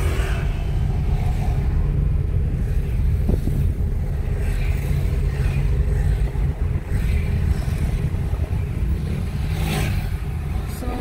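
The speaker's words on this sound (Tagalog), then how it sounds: "Traffic ang daan na bridge." Steady traffic rolling across the old Mactan bridge at night, with a continuous low rumble of engines and tyres heard close by, swelling slightly as vehicles pass, with no talk over it.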